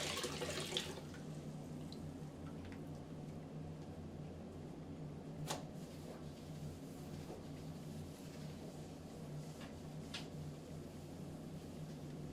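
Hot water runs steadily from a tap, a continuous rushing wash with a few sharp clicks and knocks over it, during plain hot-water floor cleaning.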